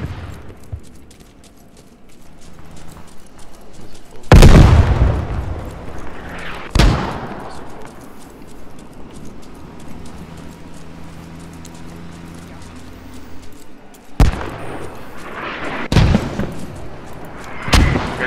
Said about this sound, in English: Watch out for mortars.